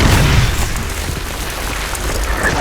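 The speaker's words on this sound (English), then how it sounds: "These explosions are devastating looking." Explosions from a World War II Pacific battle scene on TV: heavy booming blasts and rumbling, loud and dense throughout the short stretch.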